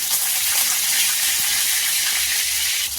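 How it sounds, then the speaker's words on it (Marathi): Curry leaves sizzle in hot oil in a wok (kadhai) while stuffed capsicum bhaji is cooked, giving a loud, steady, close hiss that continues throughout. "वरून कढीपत्ता टाकायचं त्यामध्ये।"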